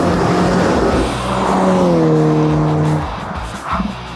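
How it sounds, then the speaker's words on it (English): A budget Skoda Yeti is driven hard on a track, its tyres squealing in a sustained, loud whine for over a second above the steady engine drone, followed by a brief bump. "Oh, so much tyre squeal."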